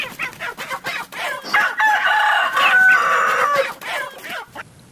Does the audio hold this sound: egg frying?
no